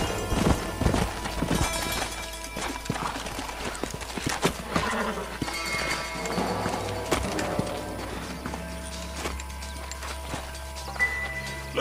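Horse hooves clip-clop in the Red Dead Redemption video game, a continuous irregular trotting patter alongside a faint whinny and soft background game sounds.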